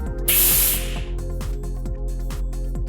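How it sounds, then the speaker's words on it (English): Shielding gas bursts from a briefly opened MIG welding cylinder valve in a loud, sharp hiss that fades after about a second, leaving faint background hum and scattered light knocks. "Remove the dust cover and open the valve momentarily to dislodge any impurities that might have collected during storage."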